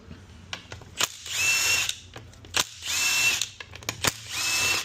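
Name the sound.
power tool removing 10 millimeter bolts from transmission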